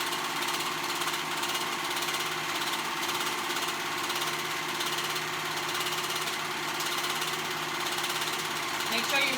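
A sewing machine runs steadily while stitching straight down a dress pocket through both layers, its motor hum continuous and close, with a person talking over it.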